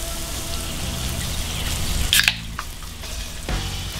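Hamburger patties frying in a pan, a steady close sizzle and crackle with a few sharper spits and pops, no voices.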